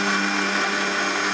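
A blender whirs at steady high speed, blending a dates and chocolate milkshake with condensed milk, a loud close motor whine with no voices.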